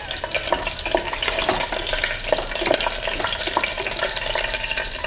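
Whole spices such as star anise, with a green chilli, fry in hot oil for a chickpea biryani, giving a steady close sizzle and crackle with faint stirring throughout.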